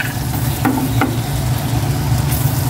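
Garlic sautés in hot cooking oil, a steady close sizzle broken by a couple of light stirring clicks, with no voices.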